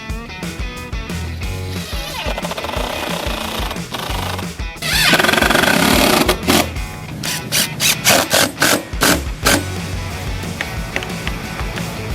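CNC router cutting a workpiece out of MDF fastened to a spoil board, a loud continuous grinding whine that rises into a harsher rasping burst midway, then pulses in rhythmic passes.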